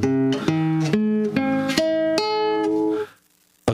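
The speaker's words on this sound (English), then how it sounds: "All right, so the major chord on the guitar." Major chord picked note by note on a guitar, a bright sequence of plucked tones ringing and stacking into a sustained chord for about three seconds before stopping, with no talking.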